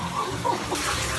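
Brief burst of running shower water splashing steadily, close and fairly loud, with no talk.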